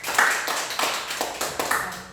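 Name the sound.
audience clapping in church service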